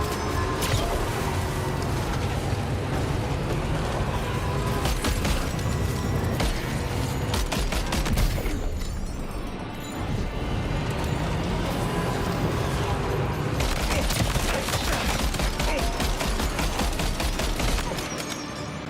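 Sustained video game gunfire in Death Stranding 2, dense bursts of shots and mechanical clatter running almost nonstop, easing briefly midway before resuming hard, with a voice talking over parts of it.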